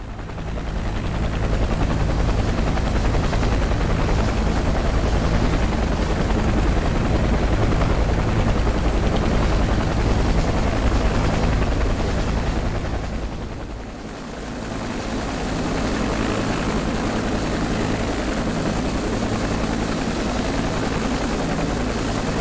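A UH-1H Huey helicopter in the Prepar3D flight simulator game, departing London City Airport, makes a loud, constant rotor thump and turbine roar that dips briefly midway before resuming steadily.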